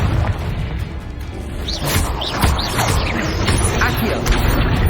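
A Confringo blasting spell from the video game Hogwarts Legacy bursts amid loud, busy game noise, with smashing and whooshing hits in quick succession and a voice calling out over the din.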